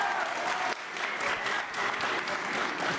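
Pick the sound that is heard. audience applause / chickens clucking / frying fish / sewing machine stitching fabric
audience applause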